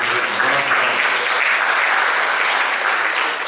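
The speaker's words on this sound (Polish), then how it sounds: "Jeszcze raz brawa dla solistów, dla Joanny Świdra, dla Piotra" Sustained applause from a concert audience for the soloists at a town-days celebration, a dense steady clatter of clapping hands throughout, loud and continuous without a break.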